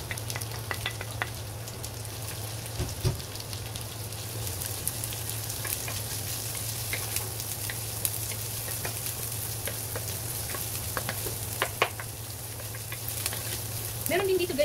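Onions fry in a pan for chicken sopas, a steady soft sizzle with scattered crackles and pops running throughout, fairly faint, over a constant low hum, with occasional stirring clatter.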